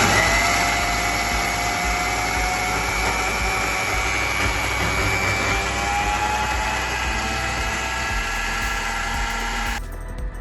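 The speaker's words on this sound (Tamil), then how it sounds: "இதை இப்போ மிக்சியில் போட்டு நான் வறுத்தெடுக்க போகிறேன். நல்லா மிக்சியில் அரைக்க போகிறேன்." An electric mixer grinder runs steadily, grinding roasted grated coconut with a loud, sustained motor whine that holds even and then cuts off near the end.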